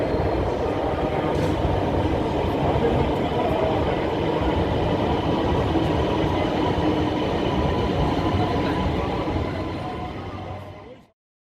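An Orange Line metro train runs in Lahore, a loud, continuous rolling roar with rail clatter close by, holding steady before cutting off abruptly at the end.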